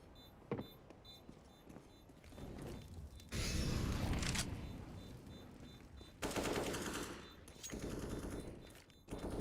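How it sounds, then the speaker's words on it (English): A bomb detonates in a Counter-Strike match, heard as a faint, dull blast with a rumbling roar that swells and fades. Bursts of similar noise follow over low, quiet game sounds. "And as the bomb detonates"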